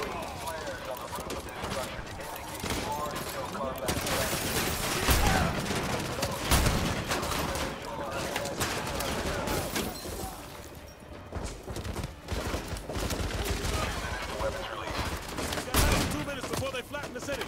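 Repeated gunfire in the video game Modern Warfare 2 Remastered, with dense bursts of shots rattling throughout amid chaotic battle noise and a player talking over it.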